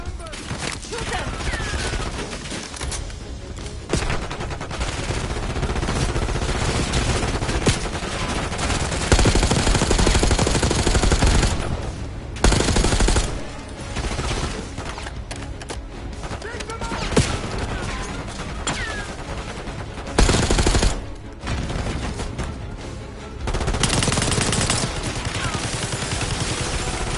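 Gunfire in the Black Ops 6 campaign, dense machine-gun bursts and rapid shots sounding loud and close, nearly continuous with brief lulls, while voices speak over the fighting.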